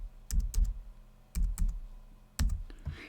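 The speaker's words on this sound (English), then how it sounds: "you type in winner number 2" Typing on a computer keyboard, close and fairly quiet, in three short bursts of a few quick key clicks separated by brief pauses.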